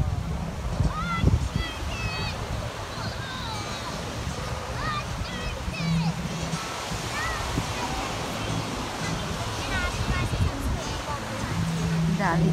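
Ocean wind and surf rush steadily along the shore at Fremantle, Australia, a constant broadband roar under a person talking.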